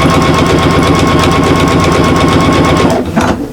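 Sewing machine running steadily as it stitches the seams of a fabric shopper bag, a close, loud, continuous mechanical whir that halts abruptly near the end.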